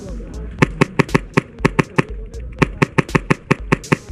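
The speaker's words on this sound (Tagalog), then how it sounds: "Ang lakas talaga ng putok pag SPA ng ganyan." Bolt-action airsoft rifle firing outdoors at a team airsoft event, giving a long series of sharp, loud cracks spaced roughly every fraction of a second, each one distinct and near, with voices in the background.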